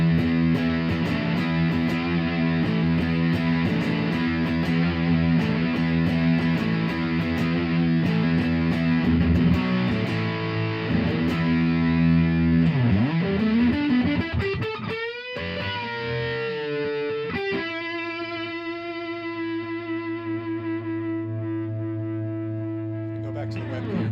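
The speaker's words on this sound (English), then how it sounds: "here's a big muff sound." Thick, fuzzy electric guitar through a Big Muff fuzz pedal chugs through heavy riffs, then bends and sustains long buzzing notes at a steady, loud level.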